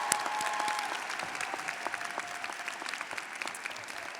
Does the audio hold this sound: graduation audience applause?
yes